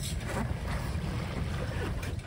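Steady low rumble of a fast ship passing at sea on the Cherbourg to Guernsey crossing, making about 33 knots, with broad wind and wave noise throughout and no pause.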